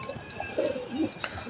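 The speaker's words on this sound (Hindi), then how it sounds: "तो मेरे पास ये दोस्तों चार कबूतर, ये देख सकते हो आप, ये चार कबूतर हो गए दोस्तों" Four pigeons kept at home coo softly in short, low, throaty phrases at close range, with faint chirps and background hiss and no talk.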